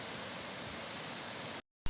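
The Kürekliderre waterfall gives off a constant, fairly faint broadband roar that cuts out abruptly at the end.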